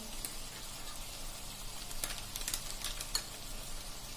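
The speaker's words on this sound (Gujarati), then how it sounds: "હવે આ બધું આપણે મિક્સ કરીને મસાલા મિક્સ કરી લેશું સરસ" Spices for dal baati, including coriander-cumin powder and garam masala, are stirred in a pan with a soft sizzle and light scraping, fairly faint.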